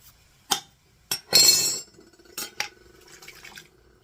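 Glass jar of home-canned Rotel being handled and opened, with sharp clinks and knocks, a burst of rattling clatter, then softer taps and liquid sounds, close by.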